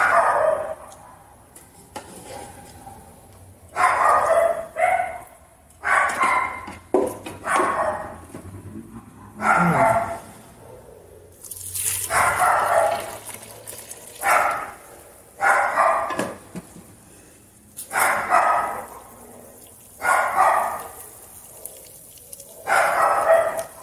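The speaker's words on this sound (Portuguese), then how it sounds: "não repare o barulhinho do cachorro" A dog barks repeatedly in a home kitchen, loud close yaps coming in uneven bursts every second or two with short pauses between.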